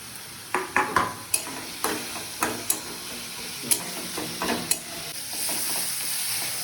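Chopped capsicum fries in a pan for gravy pasta, a spoon scraping and knocking in a quick series of stirs over a constant sizzle that swells into a steadier hiss near the end, without talk.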